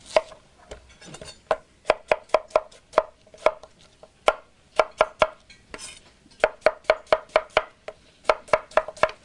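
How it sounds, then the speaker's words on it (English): A knife chops red and yellow onions on a cutting board in quick, crisp bursts of close, sharp taps with short pauses between runs. "Chop the red onion and yellow onion."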